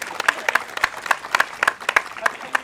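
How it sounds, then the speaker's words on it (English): Audience at a theatre performance of The Taming of the Shrew clapping, a sparse handful of separate, crisp claps at an uneven pace, close by and moderately loud. "Yeah, round of applause. Round of applause"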